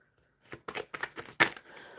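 Tarot cards being shuffled during a live card reading, a run of several quick papery riffles and snaps in an uneven rhythm, close and fairly quiet, after a brief silence.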